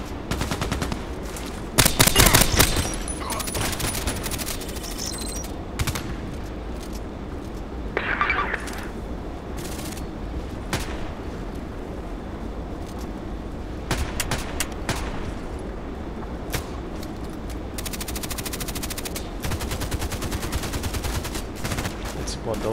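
AS VAL rifle fire in the video game Contract Wars: repeated rapid bursts of suppressed-sounding shots and scattered single cracks over steady game ambience, with someone talking at times.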